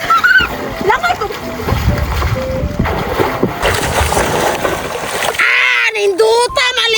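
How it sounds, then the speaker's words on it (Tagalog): Water splashes and churns as someone swims in a shallow stream, a steady wash of splashing with wind buffeting the microphone, while people shout and talk over it. "Dito ko maglangoy-langoy para muradyog mermaid sa sapa"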